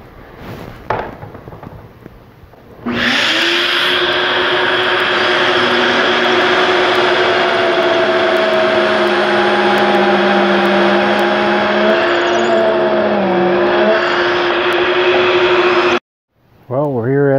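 Power drill boring pocket holes into wooden braces for a coat and hat rack, one long steady high whine that dips slightly in pitch under load before stopping abruptly, with a brief clatter at the start and end.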